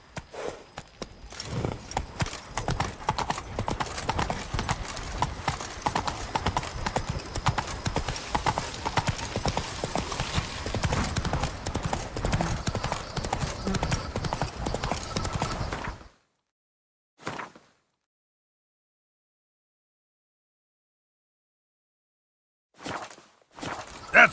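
A horse gallops in The Witcher 3 video game, a fast, steady clip-clop of hooves that runs loud and continuous for about sixteen seconds and then stops, followed by a couple of brief sounds.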